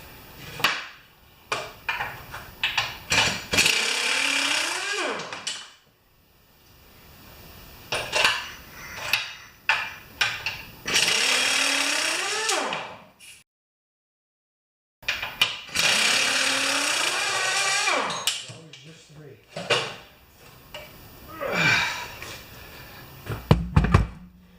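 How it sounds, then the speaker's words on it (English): Hammer taps knock the blade adapter off the shaft of a Honda GCV160 mower engine, giving repeated sharp metallic knocks in irregular bursts with ringing tones and brief pauses, close and fairly loud. "I got the blade adapter off just by tapping."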